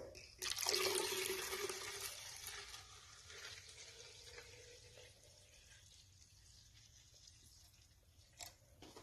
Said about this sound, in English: You're going to want to fill that bottle up about halfway.